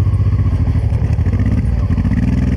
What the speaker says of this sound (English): Turned the bike back on.